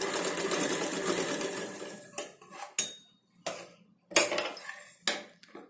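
A sewing machine runs a continuous stitch on blouse fabric, then stops, followed by several short clinks and taps of metal parts or tools in a quiet room.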